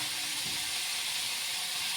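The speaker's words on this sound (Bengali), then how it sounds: "আমি একবারে দিয়ে দিলাম কড়াইয়ে একসাথে, এখন এগুলো ভাজা করছি" Food frying in a kadai gives off a steady, bright sizzling hiss, even and continuous at moderate volume, with no voices over it.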